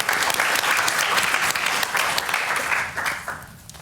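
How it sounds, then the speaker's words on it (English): Audience applause welcoming a speaker to the stage at a science-communication competition, a dense, steady wash of clapping from a full room that tapers off toward the end. "please muster yourselves, give a big round of applause"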